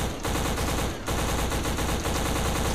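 Machine gun fire in the shooter game Black, a loud, rapid, unbroken stream of close automatic shots with two brief gaps between bursts.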